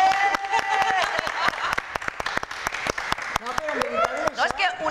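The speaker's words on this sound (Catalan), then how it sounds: "Un aplaudiment!" Rhythmic clapping from a studio audience on a Spanish-language television programme, sharp regular claps in a steady beat under prominent singing and talking voices.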